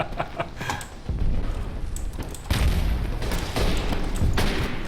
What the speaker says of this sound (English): I'm just going to put a bullet right in your face.